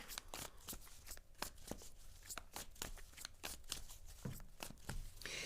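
Psychic reading cards are shuffled by hand in a steady run of crisp riffling snaps and flicks, close and quiet, with no talking.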